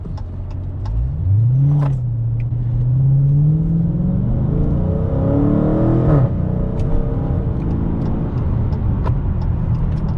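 A 2019 widebody Dodge Challenger engine revs up and accelerates with a rising, loud roar that holds steady afterward, a continuous close rumble with no talking.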